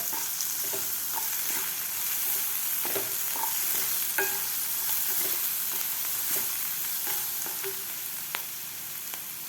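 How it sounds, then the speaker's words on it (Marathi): Crushed green chilli fries in oil with potatoes for sabudana khichdi, a steady, dense sizzle that runs throughout with repeated light scraping and stirring taps from a utensil in the pan, no voices. "हे आपल्याला तेलामध्ये थोडेसे फ्राय करायचे आहे बटाटेबरोबर"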